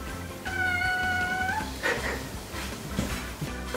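A rescued cat meows in protest at being shut out during a DIY job on an inner window, with one drawn-out harmonic cry followed by a shorter yowl, close and fairly loud over faint background noise.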